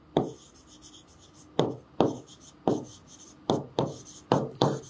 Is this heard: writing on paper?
yes